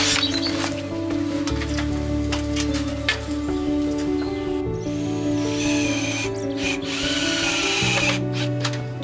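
A power drill drives screws into a window frame during spring home improvements, giving a steady, fairly loud whirring that runs the whole stretch with brief surges, set against a tonal background and no talking.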